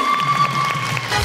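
A studio audience at a television talk show breaks into applause with some cheering, a steady mass of clapping over a sustained low hum, with no clear speech on top.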